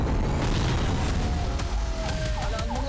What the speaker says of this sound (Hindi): विस्फोट का वीडियो भी सामने आया है